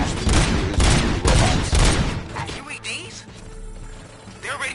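Rapid bursts of gunfire from the video game Robocop Rogue City, loud and dense in the opening seconds, then thinning out under lower mechanical noise and scattered background sounds.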